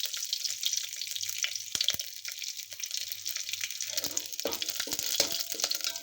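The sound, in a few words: garlic frying in pan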